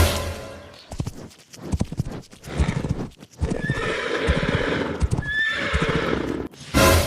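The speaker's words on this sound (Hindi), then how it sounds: "ये घोड़ा तो अपने सामने ही दौड़ के आ रहा है" A horse gallops in with loud, close clip-clop hoofbeats and sharp whinnies and neighs, several bursts over about seven seconds.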